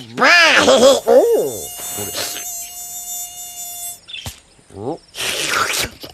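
Mosquitoes buzz in a cartoon, a thin high whine weaving through bursts of animated voices, sound effects and a sustained tone, loud at moments and then fading.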